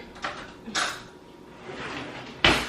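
A kitchen drawer is pulled open and a spoon is fished out while seasoning cut steak bites, giving three short clattering knocks of wood and metal at close range with quiet gaps between and no talking.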